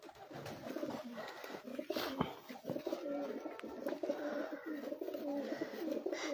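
Champion racing pigeons on a Punjab rooftop loft coo in repeated throaty, rolling calls, near and moderately quiet, with overlapping birds and occasional faint clicks and rustles.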